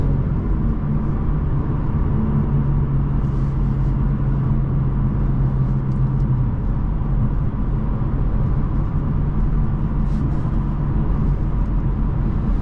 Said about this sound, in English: All these years later, the A7 drives like it did when it was brand new.